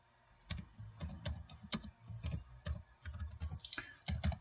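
Keystrokes on a computer keyboard during real estate owner research, clattering in short uneven bursts of clicks with brief pauses, close and moderately loud, with no talking.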